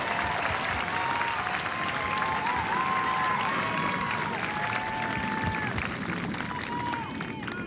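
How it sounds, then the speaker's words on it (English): A large audience applauding at an Air Force Basic Military Training graduation ceremony for the 321st Training Squadron, a dense, sustained roar of clapping with some crowd voices mixed in. "So give them a round of applause."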